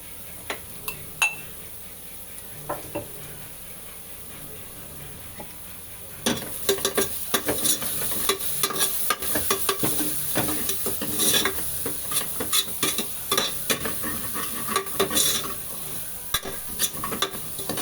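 Turmeric powder being stirred into a sizzling mixture in a frying pan, with steady frying crackle and scattered utensil scrapes and clinks that grow busier partway through.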